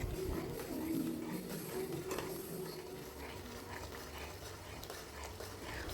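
Masala being stirred and fried in an open pan for a Rajasthani gram-flour vegetable dish, a steady low sizzle with soft scraping running continuously at close range.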